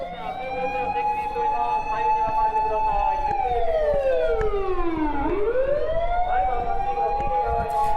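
A loud emergency siren wails steadily, then sweeps down and back up in a long dip, with city traffic rumble underneath throughout.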